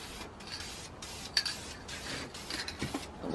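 Short hissing bursts of spray paint laying primer coats on a brake caliper, several soft spurts separated by brief pauses, close up and fairly quiet with no talking.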